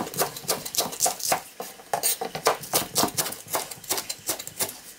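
Knife chopping a couple of small green onion stalks on a cutting board for a braised cutlassfish and radish dish, a quick steady run of crisp close taps with no talking.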